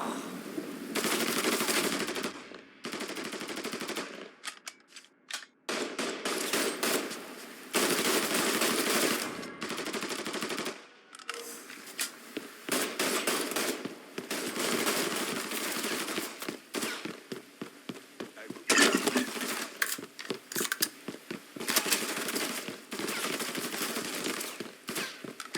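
Sustained bursts of automatic machine gun fire from a Mafia 3 Definitive Edition shootout, loud and dense, repeating in long volleys with brief gaps between them.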